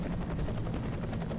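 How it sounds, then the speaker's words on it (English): Loud rhythmic chopping of helicopter rotors in the video game F.E.A.R. Extraction Point, dense and continuous throughout, with a gritty mechanical roar underneath. "Helicopters."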